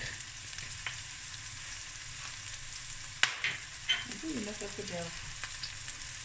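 Dried crushed chilies, garlic cloves and red pepper frying in a pan while being stirred, giving a steady low sizzle with a few sharp clicks and scrapes of the spoon.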